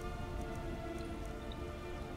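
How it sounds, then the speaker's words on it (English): Steady rain in the Skyrim video game, a constant dense patter of drops falling on surfaces, soft and even throughout with no voices. "Standing out in the rain"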